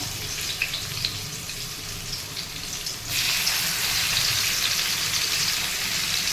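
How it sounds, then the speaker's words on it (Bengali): Garlic and whole garam masala hit hot oil, a steady close crackling sizzle that swells louder partway through as more spices go in, continuing without voices. "রসুনটাই ফোড়ন দিচ্ছি ফার্স্টে দেবো সামান্য গোটা গরম মশলা"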